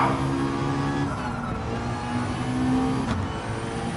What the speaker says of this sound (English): rev it out